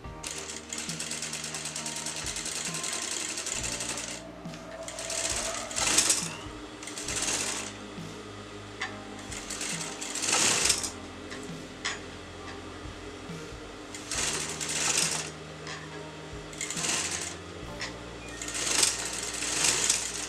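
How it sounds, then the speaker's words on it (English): A sewing machine stitches patterned fabric onto a kurta neckline, running in steady mechanical bursts with brief pauses between passes, close and clear with no talking. "you're going to start sewing this"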